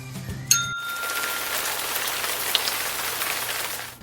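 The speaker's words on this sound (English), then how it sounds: "It's rain!" Steady rain patters on a surface, a dense even hiss filling the whole stretch, opened by a short bright ding near the start.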